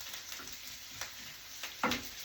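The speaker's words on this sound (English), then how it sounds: "Nicely got my onion, just nicely frying" Soft sizzling of onion frying in a pan, steady and quiet, with a few light clicks and a brief scrape near the end.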